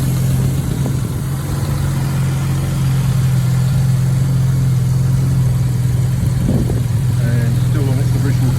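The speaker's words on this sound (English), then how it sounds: "the engine runs exceptionally smoothly, very quiet, no mechanical noises." A 1957 Jaguar XK150 fixed-head coupe's engine, still on original carburetors and air filters, idles smoothly with a steady low hum that runs throughout, while someone talks over it.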